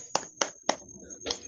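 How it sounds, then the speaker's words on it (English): Four sharp, separate hand claps at an uneven pace, close and fairly quiet, over a faint steady tone. "Can you, clap your hands for your correct answers?"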